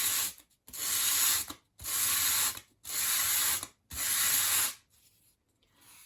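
A miniature wooden tabletop for a 1/12th scale dollhouse coffee table is drawn across flat sandpaper to sand a bevel: five steady, raspy sweeps with brief pauses between them, close and clear.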